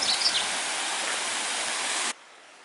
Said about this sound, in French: C'est une vraie cascade, avec une jolie maison à côté.